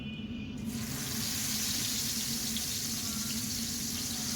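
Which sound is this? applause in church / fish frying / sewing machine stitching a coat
fish frying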